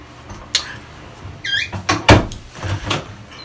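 Door opening in the horror video game Escape The Ayuwoki, a few short knocking and creaking transients spread across a few seconds, moderately loud with no talk.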